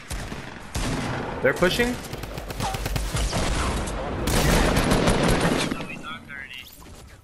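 Video game gunfire rattles in dense, loud rapid bursts of shots and explosions, nearly continuous, while players talk over the shooting.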